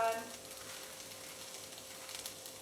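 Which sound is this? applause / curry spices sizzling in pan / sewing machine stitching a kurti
curry spices sizzling in pan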